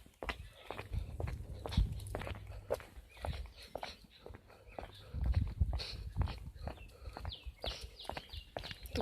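Quick footsteps along farm fields, a fast irregular run of soft thuds and crunches close by, with someone talking over them at times.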